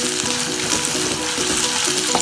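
Onions sauté in hot oil in a pan for a Kerala prawn curry, making a loud, continuous sizzle with stirring scrapes close by.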